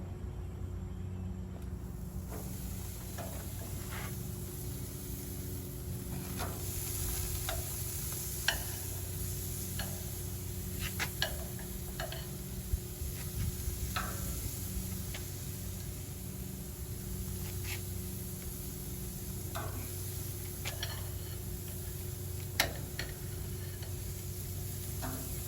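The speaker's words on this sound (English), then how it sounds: "And I'm going to add pineapple slices." Pineapple slices sizzle on a preheated grill over medium-low heat, a steady close frying hiss that runs throughout with scattered small ticks and pops.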